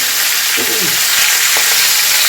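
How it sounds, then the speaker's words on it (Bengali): A fish head fries in an oily pan with a steady, loud, close sizzle and a brief stirring scrape partway through. "আর একটু ভালো করে ভেজে নেব।"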